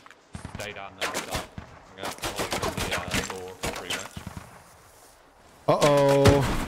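A BTR armored vehicle fires on a Stryker in the Squad military shooter: uneven bursts of gunfire crack in clusters, with voices mixed in, and a sharper, louder volley comes near the end.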